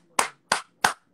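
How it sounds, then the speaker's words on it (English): Three crisp hand claps, evenly spaced about a third of a second apart, close and loud against near silence. "I'm clapping."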